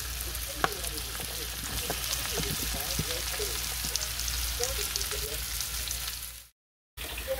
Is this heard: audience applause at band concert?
no